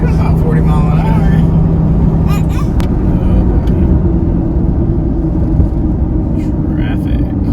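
Road traffic rumbles past a homemade Suburban camper travelling around 40 miles an hour, a loud, steady engine and road drone heard from inside the vehicle, with brief brighter whooshes from passing cars.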